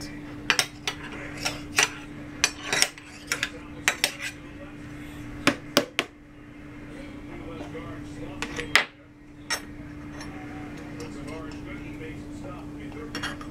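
Spoon clinking and scraping against a bowl while mixing brownie batter from a box mix, irregular sharp clinks close by over a steady low hum, with a few brief quiet voices.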